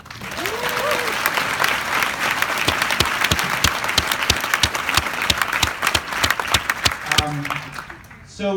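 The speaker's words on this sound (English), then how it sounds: "let's give him a round of applause." A conference keynote audience applauds continuously with dense, steady clapping, a few individual claps standing out, fading near the end.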